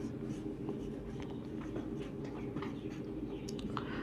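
Pen or chalk writing on paper or a board during an accounting lesson, a faint steady scratching patter of strokes under a constant low background hum, close and quiet.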